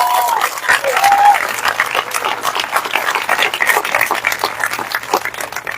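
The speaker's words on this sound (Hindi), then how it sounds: "आइए प्रभु के लिए एक अच्छी ताली बजाएंगे।" Congregation at an outdoor Christian prayer meeting breaking into loud, sustained applause, dense clapping close and steady for several seconds with a few voices and whistles mixed in.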